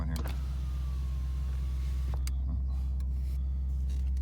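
A power window in a 1989 Cadillac Fleetwood rolls down with a thin, steady motor whine lasting about a second and a half, over the deep, constant rumble of the idling car on a cold day.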